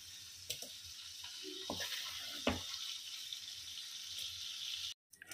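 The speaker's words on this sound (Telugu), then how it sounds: "ఇలా వాటర్ అంతా ఇంకిపోయేంత వరకు వేయించుకోవాలండి." Prawns frying in a pan while their water cooks off give a steady, bright, close sizzle, broken by a few soft knocks and scrapes. The sound cuts off abruptly near the end.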